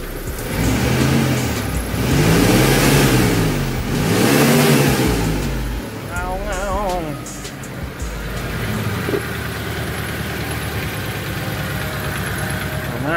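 A full-original Mitsubishi Colt T120SS engine revs hard in a loud, rhythmic series of swelling blips for several seconds, then drops back to a steadier idle with some faint background sounds.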